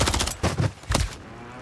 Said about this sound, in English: There's two fuckers shooting me